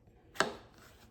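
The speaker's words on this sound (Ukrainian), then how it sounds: "Будемо нарізати огірочок. Огірочок будемо вже дрібнішим нарізати." A knife cuts a cucumber once in a single sharp, crisp chop, close and fairly quiet, with near silence around it.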